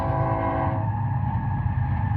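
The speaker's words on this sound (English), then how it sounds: "You can hear the train going by." Train rolling past in the open desert, a steady low rumble of wheels and wagons with a brief tonal horn-like hum at the start, continuous and fairly near.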